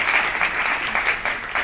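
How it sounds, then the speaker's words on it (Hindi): Audience applause at a university address, a dense burst of hand clapping from a large crowd, loud and steady throughout. "इस पर तो जोर से ताली बजनी है"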